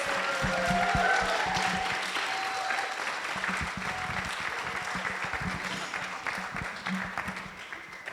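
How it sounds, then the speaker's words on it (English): An audience at a panel discussion with artists applauds steadily for several seconds, a dense wash of clapping with a few speech-like tones mixed in. "Can we get another round of applause for these amazing artists?"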